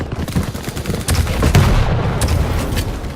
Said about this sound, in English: Give me that rocket launcher.